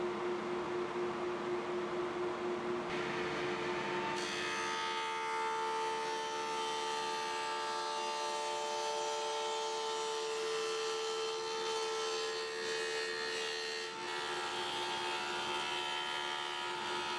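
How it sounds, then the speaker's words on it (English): A table saw with a dado stack cuts dados in plywood, giving a loud, sustained whine with a steady motor hum that deepens as the blade bites into the wood, close and continuous, with no voices. "If I didn't use the dado stack"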